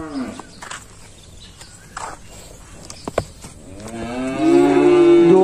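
On a Vietnamese cattle sale lot where bulls and cows are shown, a scattering of clicks and thumps gives way to a loud, drawn-out moo near the end.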